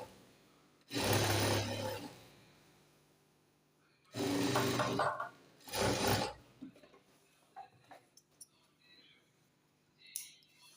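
Sewing machine stitching a jubba sleeve runs in three short bursts, the first and second lasting about a second each and the last a shorter whir, with quiet handling rustles in the pauses between them.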